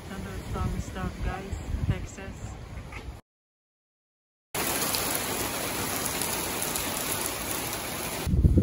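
Steady rain hisses down as a storm begins, with hail forecast. Someone talks over the first seconds, then a brief gap, then dense, loud rainfall pours evenly on surfaces to the end.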